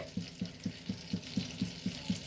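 Batter-coated French toast in a pan, a soft frying hiss under a regular series of about eight evenly spaced low knocks, like a utensil tapping steadily, fairly quiet and close.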